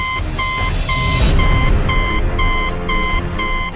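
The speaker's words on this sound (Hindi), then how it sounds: "दो सेकंड के बाद मशीन में से एक आवाज आने लगी। उसके अंदर एक लाल बत्ती जल रही थी और वो जोर जोर से बीप कर रही थी।" Fingerprint machine beeping loudly in a steady run of short, evenly spaced tones, about seven bursts, with a brief noisy rustle partway through.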